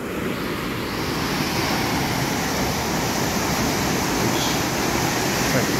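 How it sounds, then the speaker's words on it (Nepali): A fast-flowing river at Dudhe Bagar rushes past close by in a loud, unbroken roar of turbulent water that stays steady throughout, with no voices. "एकदम तीव्र रफ्तारमा पानी बगिरहेको छ।"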